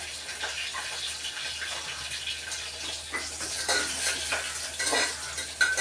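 Whole garam masala of cardamom, cloves and cinnamon fries in oil with ginger-garlic paste, giving a continuous bright sizzle with intermittent spoon stirring and light clinks against the pot.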